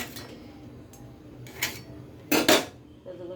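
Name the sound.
covering a pot of chilli soybean with a lid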